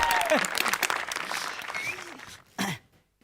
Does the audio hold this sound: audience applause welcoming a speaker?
yes